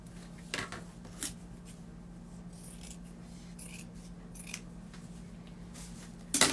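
Scissors cut fabric close by in a few brief, sharp snips spread over a quiet background, with a louder snip at the end and no talking.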